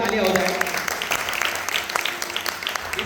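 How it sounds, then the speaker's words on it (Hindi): Applause from a studio audience on a televised Indian courtroom-style talk show, moderate and steady with scattered claps, mixed with voices and ambient chatter over about three seconds. "एक बार जोरदार तालियां हो जाए।"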